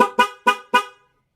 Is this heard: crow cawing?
no